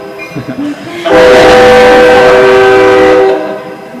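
A train sounds a loud, sustained horn blast for about two seconds, close and dominant, before it fades; brief rumbling and clatter come just before the blast.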